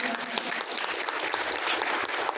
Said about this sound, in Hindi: एक बार मैं सभी के सम्मान में जबरदस्त ताली चाहता हूँ।